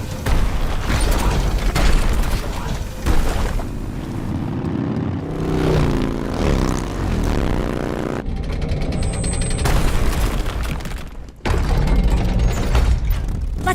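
Explosives planted on a bridge strut blow up as the Shagohod tank crosses in the Metal Gear Solid Delta: Snake Eater video game, loud rumbling blasts and mechanical roar filling the whole stretch amid layered game sound.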